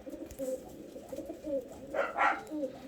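Soft, low pigeon coos repeat in a gentle rhythm in a pigeon loft, with a pair of slightly louder calls near the end over quiet background.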